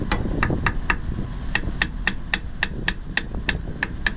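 A metal bar works at a tight, previously bolted part on a 1944 GMC DUKW amphibious truck, giving sharp metallic clinks in a steady rhythm, about fifteen in four seconds, close and crisp over a low rumbling background.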